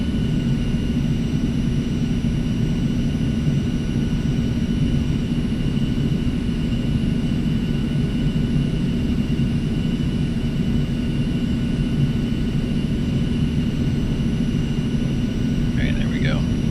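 An aircraft taxiing in the flight simulator X-Plane 11 makes a steady, unbroken engine whir and rumble, constant and fairly loud throughout, with a faint chirp near the end.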